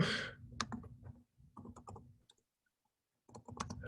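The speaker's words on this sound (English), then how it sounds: "I think he's typing his answer" Someone typing on a computer keyboard during an online board election meeting, bursts of quick close key clicks separated by a short pause, then a further flurry of keystrokes.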